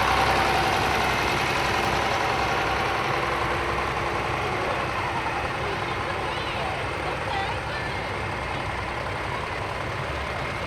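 Antique John Deere tractors with inline engines, classic 4010 and 4020 models, run at a cotton gin parade, giving a steady, loud engine drone throughout with outdoor crowd noise.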